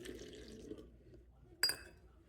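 Room temperature water poured into a sourdough starter of flour and water, a quiet liquid trickle followed by a brief sharp glassy clink near the end.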